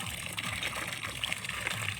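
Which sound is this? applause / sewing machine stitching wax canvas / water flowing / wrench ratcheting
water flowing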